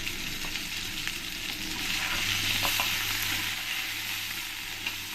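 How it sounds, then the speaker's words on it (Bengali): Fried potatoes with salt and turmeric being stirred in a pan: a steady, fairly faint sizzle with soft scraping and stirring noises, heard alone at close range. "আলুর সঙ্গে ভালো করে মিশিয়ে নেবো"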